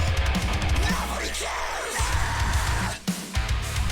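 A sustained, aggressive metal vocal scream from On Hollow Ground's album Blood Is Blood, held at a steady pitch for several seconds over loud, dense full-band music, with a brief drop near the end.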